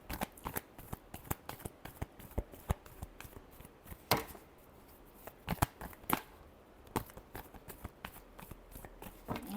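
Tarot cards being shuffled by hand close up: quiet, irregular riffling bursts and sharp slaps of the deck, with short pauses between rounds.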